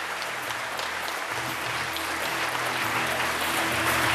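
Dense, sustained applause from a concert audience for a singer at a benefit performance, loud and continuous throughout with no talking over it.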